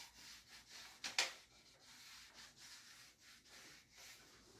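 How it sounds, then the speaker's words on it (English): Cloth rubbing wood stain off a wooden rocking chair: soft, steady back-and-forth scrubbing strokes, close and quiet, with one slightly sharper scrape near the start. "Rub it off a little bit more."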